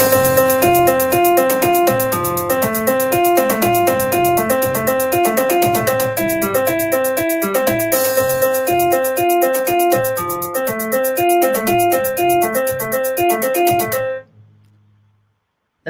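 An AI-generated music sample for piano, drums and guitar plays loud and continuous with bright repeating tonal notes over a steady beat, then stops abruptly near the end into silence.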